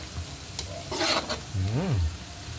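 Aromatics sautéing in a pan for Filipino ground pork giniling, a soft sizzle with scraping stir strokes, close up; a brief tonal rising-falling sound passes near the end.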